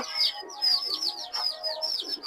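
Giribaz pigeons, a black-headed khaki pair sitting with chicks, give close soft cooing and chirping calls in a quick repeating series that runs through the whole stretch.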